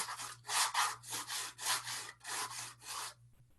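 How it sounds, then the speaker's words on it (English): A palette knife smooths paint across canvas in a series of rhythmic rasping scrapes, about eight strokes, close and fairly quiet over a faint low hum. "Just going to start smoothing it over the canvas."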